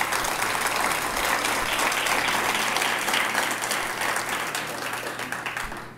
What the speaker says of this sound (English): how about a round of applause for these three candidates?